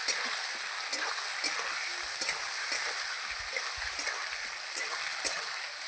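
Ground ginger, garlic and onion paste thinned with a splash of water is stirred in a pan for a fish curry: a steady frying hiss with regular scraping strokes of the spoon.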